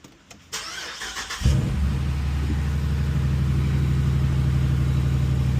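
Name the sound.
2019 Dodge Durango R/T engine starting and running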